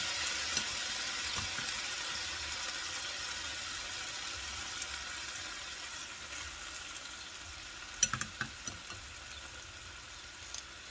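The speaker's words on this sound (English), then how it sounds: "So you can kind of like saute up the vegetables first." Vegetables sauté in a hot pan for teriyaki steak bites, giving a steady, even sizzling hiss throughout, with a few light utensil clicks near the end.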